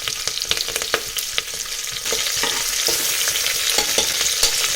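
Onions and curry leaves frying in hot oil for a black chickpea gravy: close, crackling sizzle broken by sharp spatters and stirring clicks early on, then a denser, steady frying hiss, with no speech.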